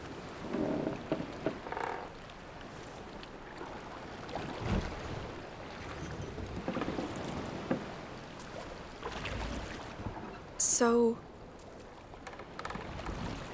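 Oars splash and creak in a steady rowing rhythm over water in the video game A Plague Tale: Requiem, with gentle lapping and wind around, and a brief sharp tone near the end.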